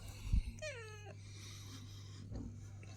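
Cats squabble outdoors over food, one letting out a sharp drawn-out yowl and a later short cry over a steady low hum.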